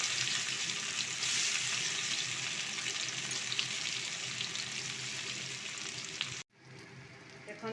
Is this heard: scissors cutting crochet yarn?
no